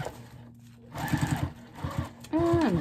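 A sewing machine back-stitches on a car trash bag in short bursts of stitching with pauses between, ending in a louder stretch as a voice talks over it.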